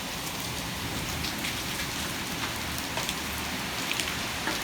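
Penny-size hail falls during a severe warned storm with 40 mph wind, striking the ground and parked cars in a dense, steady patter that fills the whole stretch, with a few sharper clicks standing out near the end.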